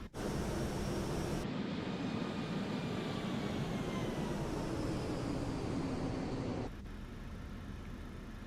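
A Ryanair airliner's jet engines in a flight simulator game, a steady broad roar that holds level and then drops slightly in loudness near the end, with no speech.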